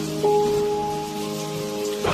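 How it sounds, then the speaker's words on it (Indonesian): Heavy rain pours steadily as a story sound effect, a dense continuous hiss heard up close, with a sustained low musical tone droning underneath and no talking. "hujan turun dengan sangat deras"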